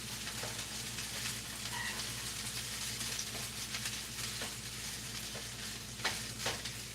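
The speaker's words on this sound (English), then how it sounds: "And you can just hear that sizzle." Hash browns frying in oil give a steady, dense sizzle with scattered crackles and pops, close up and continuous, no voices.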